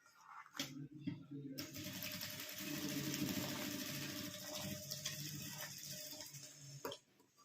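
A sewing machine stitches a school pencil pouch, running in one steady, fairly quiet burst of about six seconds with a fine ticking mechanical texture.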